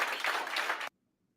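A TEDx audience gives a standing ovation, a dense wash of applause that runs for under a second, then cuts off abruptly into silence.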